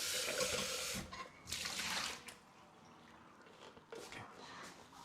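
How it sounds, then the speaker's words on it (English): A Thermomix bowl is rinsed under a running tap, water splashing loudly in bursts near the sink, easing off and then picking up again. "Just wash the Thermomix because we're gonna put it back"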